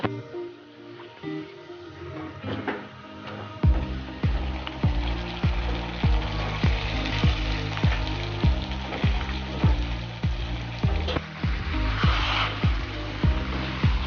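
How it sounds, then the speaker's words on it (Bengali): Marinated chicken cooking in a wok for biryani, giving a crackling sizzle and a run of regular scraping or stirring strokes, moderately loud and close, with no speaking. "আমি এখন এটাকে একটু ভেজে নেব"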